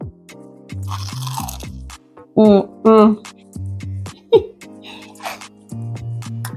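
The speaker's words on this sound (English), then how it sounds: "Nice crunch. The garlic comes through." Bites and chewing of warm, crunchy cheesy garlic bread, several crisp crunches in short bursts between stretches of speech, close and fairly loud.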